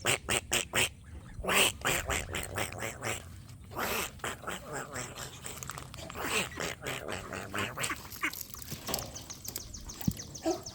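Ducks kept alongside Freedom Ranger chickens quack close by in repeated bursts, with rustling and other farmyard noise between calls.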